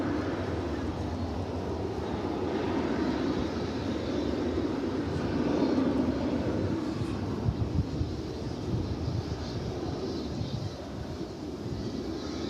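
A jet airliner idles at DFW Airport, its engines giving a loud, steady roar with a deep rumbling low end that holds evenly throughout.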